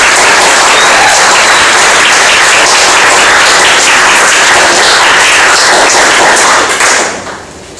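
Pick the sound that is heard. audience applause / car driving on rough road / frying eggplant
audience applause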